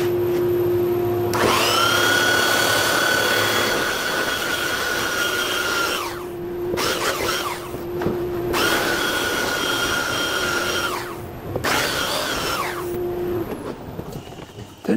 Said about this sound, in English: I'm going to go ahead and sand this one too while we're at it.